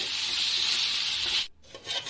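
Onion, ginger and garlic frying in a pan give a loud, dense hiss for over a second, then cut off abruptly, followed by quieter scraping.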